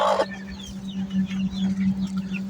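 A hen clucks in a short run of soft, close calls over a low steady hum, with a brief louder rustle at the start.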